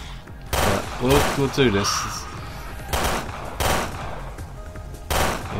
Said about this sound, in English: those gunshots seem a bit louder than usual